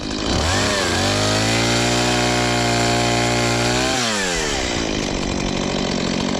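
A chainsaw roars loudly up close, revving from idle to a sustained high whine, then dropping back to a rough, sputtering idle.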